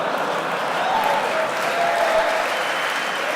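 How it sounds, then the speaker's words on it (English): An audience at a university interview event breaks into continuous clapping, a steady wash of hands from across the hall at even volume. "Why are they applauding?"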